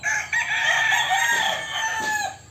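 A rooster crows loudly and close, a long wavering call, with a hint of clucking around it.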